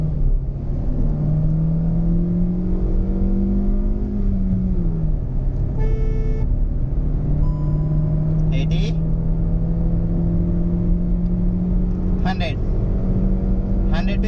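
Hyundai Venue car engine pulling hard from a standstill, a loud steady drone whose pitch climbs and drops through gear changes, heard from inside the cabin with a few short electronic beeps and some talk.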